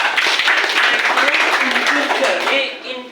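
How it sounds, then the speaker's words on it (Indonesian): A classroom audience claps together during a lesson, a dense patter of many hands that stays steady and then tapers off, with voices mixed in. "tepuk tangan dulu ya"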